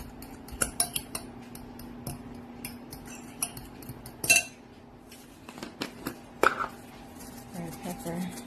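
A utensil clinks and scrapes against a bowl while deviled egg filling is stirred, a run of light, irregular metallic taps and knocks with brief pauses, close and fairly quiet.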